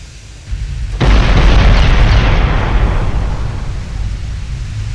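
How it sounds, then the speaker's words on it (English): A torpedo detonation in the naval game Ultimate Admiral: Dreadnoughts hits as one sudden loud blast, then a broad roaring rumble that slowly fades. "Torpedo detonation"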